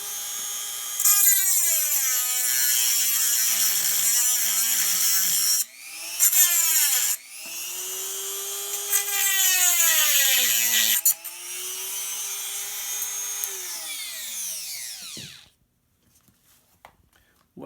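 A power tool grinds the head off a screw, its high whining tone bending up and down in pitch as the load changes, with brief pauses near 6 and 11 seconds before it spins down into silence at the end.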